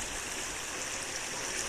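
Perumpallam creek flowing steadily, a continuous broadband rush of running water with no talk, close and even throughout.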